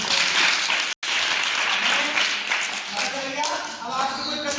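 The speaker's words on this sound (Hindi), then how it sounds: "बहुत अच्छी बात ताली बजाओ दीदी की।" Children in a classroom applauding a girl's answer about planting trees, a dense, even round of clapping with some voices mixed in, loud and close throughout.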